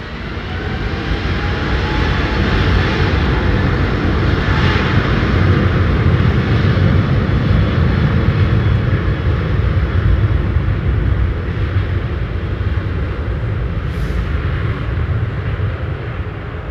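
An airplane's engines roar steadily and loudly at an airport, a dense continuous rumble that holds for the whole stretch with no voices.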